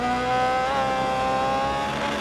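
Open-wheel race car engine in the Grid Autosport racing game, screaming high as it revs toward the red line, then pitch dips and sweeps as it shifts under braking, loud and continuous.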